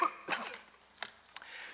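A man coughs a few times in short harsh bursts during a formal 2012 debate hall setting, faint and fairly close, with quiet room tone between the bursts.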